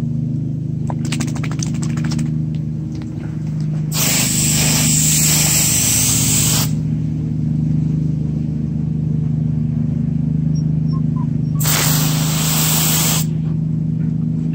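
A garden hose sprays water at beagles outdoors, two loud bright hissing bursts of several seconds each over a steady low hum and background noise.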